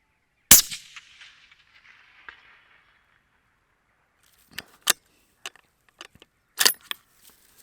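One sharp, loud rifle shot cracks out at long range on an open field with a rifle topped by a Zeiss LRP S3 6-36x56 scope, leaving a fading echo, and a few scattered clicks and knocks follow after a pause.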